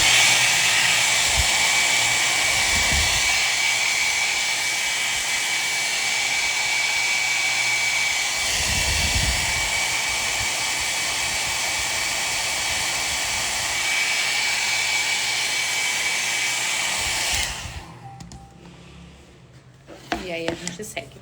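A hair dryer blows steadily up close to dry paint on a craft sewing box, a loud constant whoosh that cuts off near the end, after which a voice and handling sounds follow.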